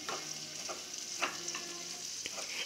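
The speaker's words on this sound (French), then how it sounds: "Voilà, ça mijote. On va touiller un petit peu." A spoon stirs an omelette made with testicles and parsley simmering in a pan, with soft scraping strokes over a steady quiet sizzle.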